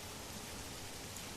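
Steady, dense rainfall pours down without a break, a constant close hiss of a storm with no voices or other sounds.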